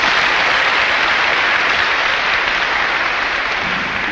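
A crowd applauds after a doctorate in mathematical sciences is awarded, steady loud clapping that continues evenly throughout with no voices over it.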